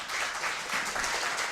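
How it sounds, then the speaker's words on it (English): Brief applause from an audience at a poetry anthology launch, a soft steady patter of clapping heard at moderate distance. "come on, big round of applause for Newcomen."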